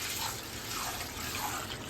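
Chana dal is rinsed in water, producing a close, continuous sloshing and trickling.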